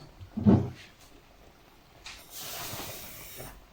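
Toasted sesame seeds tipped into hot sugar syrup for a sesame sweet, with the heat just turned off, give a soft thud and then a steady sizzling hiss that lingers at moderate level.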